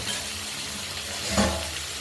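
A soft, steady sizzle of sliced ridge gourd frying in a pan, with a brief stir or clatter partway through, quiet and close.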